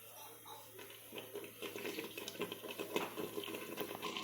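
Water poured into a simmering spicy chicken gravy in a pot, a faint, uneven splashing and bubbling stream that grows slightly louder over several seconds, quiet and close.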